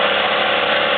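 A Vespa Ciao moped's small engine runs at a steady, buzzing rattle, close and unchanging for about a second with no voices.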